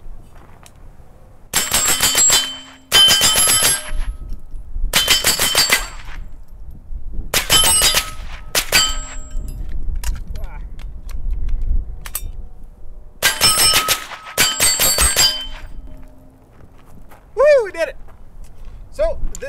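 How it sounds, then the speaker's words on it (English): .22 rifle fitted with a suppressor fires at an MGM steel spinner target outdoors, producing sharp ringing metallic clangs in separate bursts of one or two hits spaced across the clip, loud and close, with brief talk between shots. "Today we're going to spin an MGM spinner with the 22."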